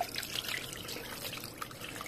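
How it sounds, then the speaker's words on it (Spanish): Wash water from hand-washing an Isthmus huipil poured out, a soft steady trickle and splash of liquid running continuously, quiet and close, with no voices. "voy a tirar esta agua."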